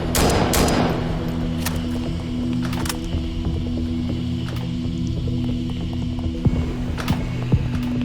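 Gunfire rattles through a BlackSite Zeta shooter match, with sharp bursts of shots and a few scattered later pops over a steady hum of game ambience.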